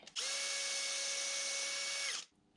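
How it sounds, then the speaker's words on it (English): A power drill whirs steadily at high speed for about two seconds while pre-drilling holes in wood, then spins down and stops. "So I'm just pre-drilling some holes, and then I'll whack some screws in here."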